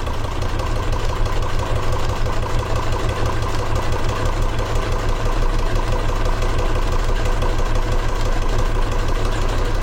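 A sewing machine stitches down fabric webbing, pivoting to sew along the other side: a steady, loud mechanical whir with a fast rhythmic needle beat running unbroken throughout, with no voices.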